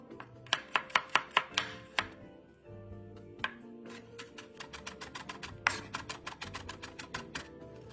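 Shallots being minced with a knife on a cutting board: bursts of rapid, sharp, close chopping thuds, a short pause, then a longer fast run of chops, with no voices.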